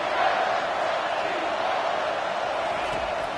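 Football stadium crowd roaring during a game, a broad, sustained wall of cheering at moderate level that swells slightly at first and then holds steady.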